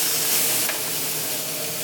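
Vegetables hit a hot pan of curry base with turmeric and garlic, and a loud, steady sizzle fills the air, hissing close and continuous with no talking.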